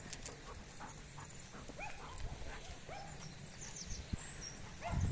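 A dog whimpering and yipping in short high whines, with occasional barks against a low outdoor rumble, fairly faint and intermittent.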